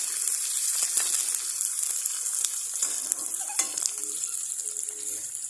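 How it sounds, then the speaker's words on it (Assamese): Onions and green chillies frying in a pan while being stirred, a continuous bright sizzle with occasional scraping and clinks from the spoon, close and unbroken, no talking. "এতিয়া মই পিঁয়াজ আৰু জলকীয়াখিনি ভালকৈ লৰাই দিম দেই।"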